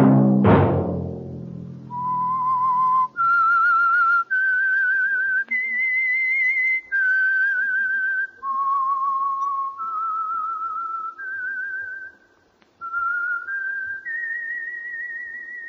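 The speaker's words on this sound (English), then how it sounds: "Let that whistle be your signal for the Whistler" A clear whistled melody, a slow sequence of sustained notes stepping up and down, close and alone after a short opening thud.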